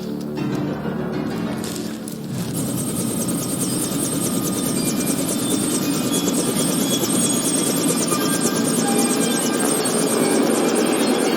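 A helicopter's rotor chops steadily and loudly, a continuous thumping drone that holds close throughout.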